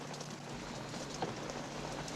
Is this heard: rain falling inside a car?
yes